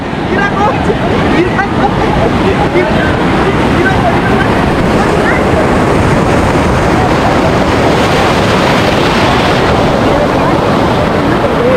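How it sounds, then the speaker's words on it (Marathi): Large, dangerous sea waves surging knee-deep at the shore on a coastal motorbike ride toward Somnath, heard as a loud, unbroken roar of churning water and wind that fills the whole stretch without pause. "कशा लाटा आहेत, भयंकर लाटा आहेत लाटा."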